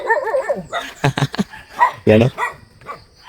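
Several dogs bark, yip and whimper in a quick, loud burst, with a brief voice heard between them.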